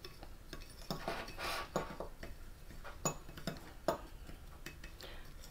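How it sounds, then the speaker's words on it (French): A spoon mixing the dry ingredients for keto bread in a bowl, with repeated light clinks and scrapes against the bowl in an irregular rhythm, close and fairly quiet. "Donc je vais maintenant mélanger mes éléments secs."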